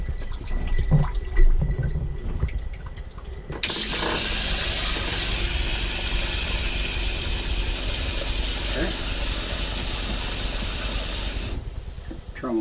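Water streams steadily from an Airstream Basecamp 20X shower head into the RV toilet bowl, a loud continuous hiss and splash lasting about eight seconds after a tap turns on, with faint voices and clatter before it starts.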